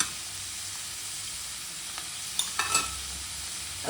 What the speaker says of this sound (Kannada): ಚೆನ್ನಾಗಿ ಬೆಂದ್ಕೊಳ್ಳಿ. ಅದು ಚೆನ್ನಾಗಿ ಫ್ರೈ ಆಗಬೇಕು.